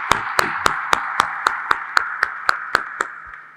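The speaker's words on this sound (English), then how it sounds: "I'd like to give him a round of applause if you don't mind" About a dozen sharp, evenly spaced claps at an energy conference, close and distinct over a faint background hum, as if from one pair of hands rather than a full crowd.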